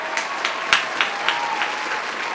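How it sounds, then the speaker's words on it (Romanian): A few scattered claps, sparse and fairly close, sound over a quiet room background for a couple of seconds, suggesting a small, light round of applause. "Aplauze!"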